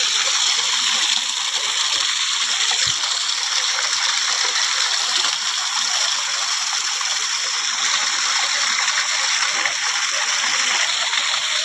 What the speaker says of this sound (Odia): ଆମେ ଟିକେ ତଳକୁ ଟିକେ ଯିବା ଯେଉଁଠି ପାଣି ପଡ଼ୁଛି।